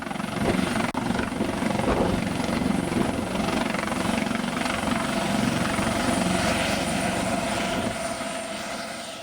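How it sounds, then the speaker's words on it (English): Loud, continuous helicopter rotor thumping and engine roar as a Samaritan medical helicopter arrives at a fly-in and car cruise-in event, close by and steady for the whole stretch. "Just arriving is the Samaritan helicopter"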